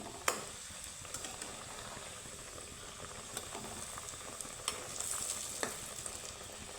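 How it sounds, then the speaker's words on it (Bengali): Two flour-dough tiffin snacks deep-fry in hot oil, giving a faint, steady bubbling sizzle with scattered soft clicks and pops, close by and with no voices. "একসাথে দুটো টিফিন ভাজবো"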